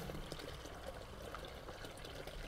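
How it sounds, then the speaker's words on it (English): Water flows from a 40 millimeter pipe into a natural pool, making a continuous soft splashing and trickling wash that stays faint and even throughout. "So in this, the flow seems to be a lot quicker. There's a bit more flow at this height from a 40 millimeter pipe."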